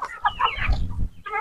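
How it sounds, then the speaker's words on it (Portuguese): Farm chickens cluck in a short close burst of several quick calls, loud and distinct, with a brief pause before another cluck at the end. "Só que chega as galinhas"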